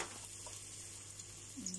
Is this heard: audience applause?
no